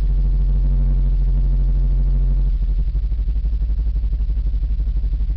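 A vehicle engine running rough as it warms up, first a loud steady drone, then a lumpy, uneven pulsing beat as it struggles to hold an idle, close and alone.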